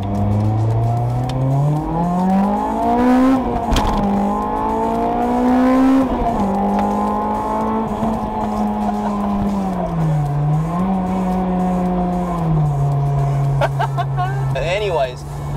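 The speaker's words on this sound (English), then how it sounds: "You guys ready to hear some VTEC?" A Honda Integra Type R DC5 engine revs hard into VTEC and climbs in pitch, then holds a high, loud wail, dipping and rising again as it shifts, continuous and close.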